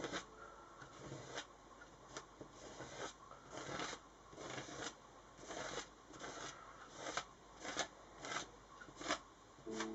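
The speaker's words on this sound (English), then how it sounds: "and you just scrape it through." Texture paste scraped through a stencil onto a page: a steady run of close, rasping strokes that swell and fade one after another, fairly quiet, with no talking.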